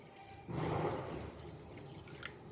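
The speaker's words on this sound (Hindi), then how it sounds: "तो मैं यहाँ पर ये सबसे पहले पानी डाल देती हूँ इसमें।" Water poured into a cooking pot from a measuring vessel, a soft, faint splashing stream rising briefly then settling into a quieter trickle.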